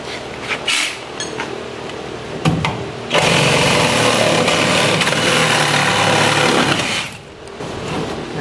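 A DeWalt power saw cuts through a wooden barn post being repaired, a loud sustained buzzing grind lasting several seconds after shorter bursts, alone with no talk.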